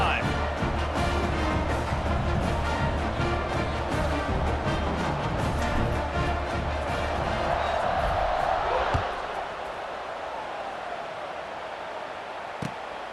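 Dense stadium crowd roar from EA Sports College Football 26, a steady loud wash of cheering fans during a kickoff that drops to a lower murmur near the end, with a game announcer's commentary over it.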